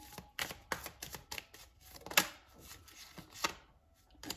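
Tarot cards being shuffled by hand, a run of crisp riffling bursts and soft slaps in an irregular rhythm, close and clear with no talk.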